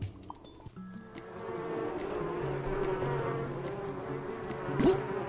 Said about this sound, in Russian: Бывает, пчелы набрасываются.